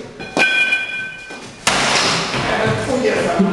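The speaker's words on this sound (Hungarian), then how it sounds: "Az ajtó rendszeresen becsukódik" A door swings shut during a hardware repair job where a screw at the back is being loosened, producing a sharp thud near the start and a louder slam at the midpoint, both close and distinct.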